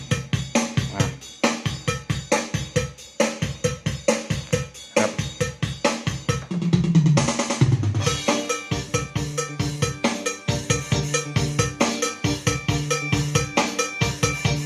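Yamaha PSR electronic keyboard rhythm accompaniment with steady drum beats, bass and chords in a regular pattern, played loud and continuous with no voices.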